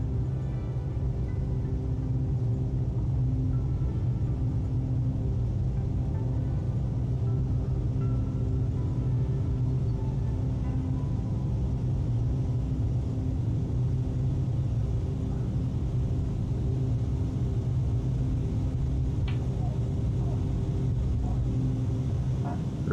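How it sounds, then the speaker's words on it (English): Twin Continental piston engines on a light twin-engine aircraft in a flight simulator game, a steady loud droning rumble throughout as they rev up for takeoff, with no talk over it. "This thing really does sound like you're sitting between two Continentals revving up to take off."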